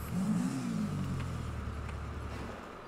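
A car in Grand Theft Auto V driving off, its engine revving up with a rising whine at first, then settling into a steady, moderately loud drone as it pulls away.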